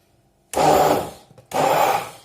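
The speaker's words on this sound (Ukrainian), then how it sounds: "Дуже добре все перемішаємо блендером." A handheld blender whirs loudly in two bursts mixing sugar-free, flourless pancake batter with sour cream, the first fading slightly before a brief pause and a second strong run, motor noise dense and buzzing.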